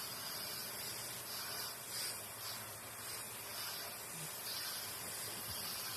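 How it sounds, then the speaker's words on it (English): Steady broadband hissing spray of cold water onto hot cooked beets runs throughout, like a hose nozzle misting continuously, fairly close with slight surges. "So I'm going to spray some cold water on them, cool them down a little bit"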